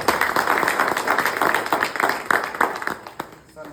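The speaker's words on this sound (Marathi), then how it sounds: "त्याच्याबद्दल आपण त्याच्या सर्वांचे टाळ्या वाजवून स्वागत करतो" A room full of people claps in dense, continuous applause to welcome a newly selected police constable, steady and fairly loud with a few sharper claps standing out near the end.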